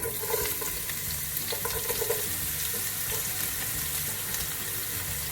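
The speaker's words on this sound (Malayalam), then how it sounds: "കടുക് പൊട്ടി വരുന്നുണ്ട്, നമുക്ക് ഇനി സവോള ഇട്ട് കൊടുക്കാവുന്നതാണ്." Onions sizzling and crackling steadily in oil with mustard seeds in a pan, a constant frying hiss with light stirring, close up and without talk.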